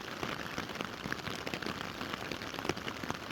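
Steady rain pattering close by on a mountain hike in Snowdonia around Crib Goch and Y Garn, a dense, even hiss of drops with small taps throughout and no voices.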